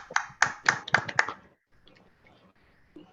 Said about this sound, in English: Let's have a round of applause to Mr. Tan Boon